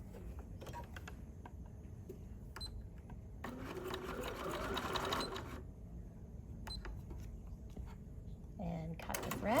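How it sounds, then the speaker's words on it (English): A BERNINA 485 sewing machine straight stitching through layers of denim, moving from two layers up to four, with a steady mechanical whirr and a louder stitching burst in the middle, close up, while someone talks over it. "you can see how easily that machine just transitioned from the 2 layers of denim to the 4"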